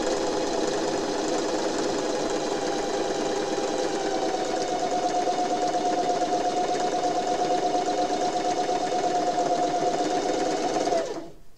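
Sewing machine running a straight stitch at 2.5 length on an hourglass quilt block, a steady close, even whir held for about eleven seconds before stopping abruptly, with no talk.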